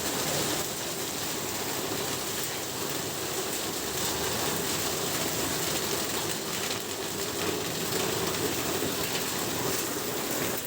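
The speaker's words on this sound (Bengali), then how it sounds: "এভাবে করে গত রাত থেকে বৃষ্টি শুরু হয়েছে" Heavy rain pours steadily over Meherpur during a prolonged downpour, a dense, constant hiss of water on surfaces with no pauses, loud and close throughout.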